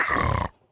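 A single short, harsh snort from a dog close by, lasting about half a second, then quiet.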